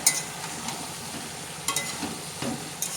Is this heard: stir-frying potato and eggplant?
yes